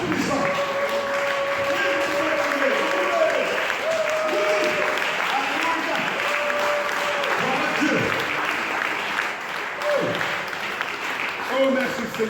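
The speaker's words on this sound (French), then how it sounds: "Acclamez le roi des rois, le Tout-Puissant" A church congregation applauds steadily, a dense continuous clatter of clapping filling the room, with voices singing and calling out over it throughout.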